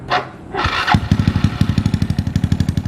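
A Honda Wave 110i motorcycle with an aftermarket slash-cut X-Cycle exhaust starts up and then revs in a steady run of quick, loud, regular pulses, close to the listener, after some brief noise at the start.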